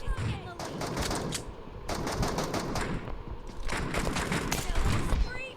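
Rapid automatic gunfire and shots from a team-based shooting video game match, dense bursts running almost continuously at steady loudness, with voices talking over the action.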